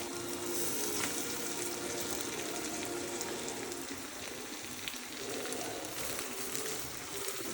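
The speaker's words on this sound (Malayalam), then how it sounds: "തിളച്ച് കിടക്കുന്ന ചിക്കനിൽ നമ്മൾ നാരങ്ങ ഒഴിക്കുക" Lemon juice poured over chicken frying in a hot pan sets off a loud, dense, continuous sizzle that holds evenly throughout without talking.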